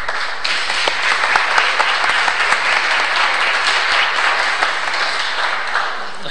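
An audience at a question-and-answer session claps in steady, dense applause that holds loud and even throughout, with no speech on top.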